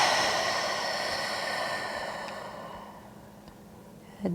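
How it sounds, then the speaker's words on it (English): A long, deep exhale during a stretch, a close breathy rush that slowly fades over several seconds before a brief sound at the end, with no talking. "Exhale here."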